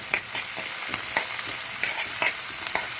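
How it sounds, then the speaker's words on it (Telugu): Thinly sliced onion and green chillies fry in a pan, a steady close sizzle broken by regular scraping strokes as the spoon stirs them, several in a row without pause. "వేసేసి ఫ్రై చేసుకోవాలండి"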